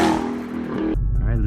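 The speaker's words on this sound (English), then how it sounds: "First time driving the Hellcat" A 2020 Dodge Charger Hellcat Widebody's engine roars as it accelerates, a loud close growl that swells, then drops into a deep low rumble, with voices talking over it.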